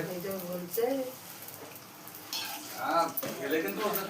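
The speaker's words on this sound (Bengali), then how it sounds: "তাই ও ফুচকা ভাজছে" Fuchka (puffed puri) frying in hot oil, a soft steady sizzle running under nearby conversation, with a few louder bursts as the puris are moved about.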